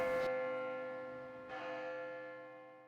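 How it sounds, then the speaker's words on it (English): Church bell struck at the Grace Cathedral carillon, two strikes about a second and a half apart, each leaving a rich, ringing tone that hangs and slowly fades. "there's a special bell ringing"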